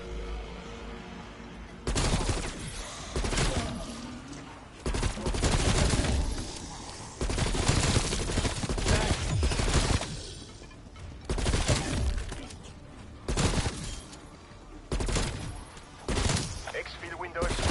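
Rapid, loud gunfire from the zombies mode of Call of Duty: Black Ops Cold War, with repeated automatic bursts, impacts and shattering, nearly continuous with short pauses, mixed with talk.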